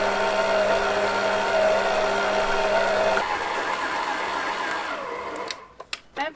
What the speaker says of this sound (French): Allez, je vais pétrir à peu près 10 minutes à petite vitesse.